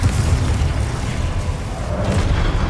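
Spell explosions from Confringo casting in Hogwarts Legacy, a dense low rumble of booms blending into one another without a break over a few seconds, loud and thick with no clear gaps between blasts.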